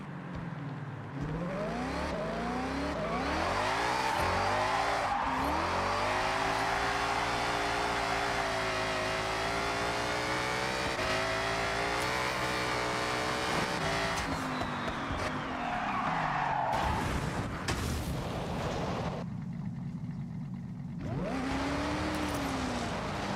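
A Mustang in Forza Horizon 6 driving a cross-country route in Japan, its engine revving up and down through gear changes with long tire squeals and skids, loud and continuous before dropping off near the end.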